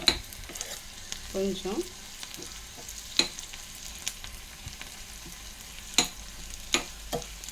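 Chopped ivy gourd and onions sizzle and fry steadily in a pan, with scattered clicks and scrapes of stirring, close and moderately quiet; a voice says a brief word.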